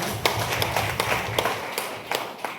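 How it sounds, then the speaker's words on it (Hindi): Clapping from an audience at a DXN business meeting in India, a short burst of uneven, fairly close hand claps with distinct sharp strikes over a crowd murmur. "जोरदार ताली आप सबके लिए।"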